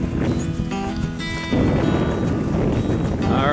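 Strong, chilly wind on an open hiking trail along the Standing Stone Trail, a steady loud roar buffeting the microphone throughout, with no talk.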